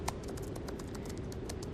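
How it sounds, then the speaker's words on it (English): Steady keyboard typing ambience: rapid, irregular clicks of keys pressed at an even pace over a soft background hum, moderately quiet and continuous. "we can do some typing"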